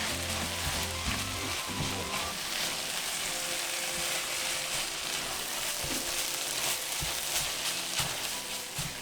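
A seasoned shredded beef machaca mixture sizzles steadily in a hot pan as it is stirred. A constant frying hiss carries occasional scraping and stirring sounds, close and fairly loud.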